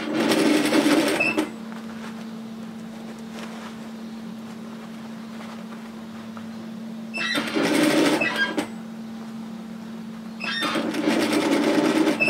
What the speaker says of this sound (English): turn that bottom piece around at a right angle, pop that down and start stitching again